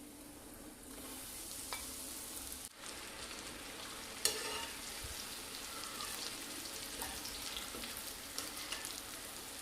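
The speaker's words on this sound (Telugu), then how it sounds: "ఆయిల్ మరిగిన తర్వాత వాటిని డీప్ ఫ్రై చేసుకోవాలి. ఇలా కొంచెం కొంచెంగా వేసుకొని డీప్ ఫ్రై చేసుకోవాలి." Sweet corn deep frying in hot oil, a steady bubbling sizzle that runs throughout at moderate level, with occasional louder pops and crackles and a brief dip around the middle.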